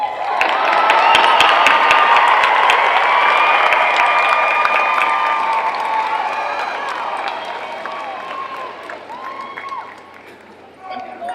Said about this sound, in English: please stand and give a round of applause to your family, friends, and support systems for all their help through the years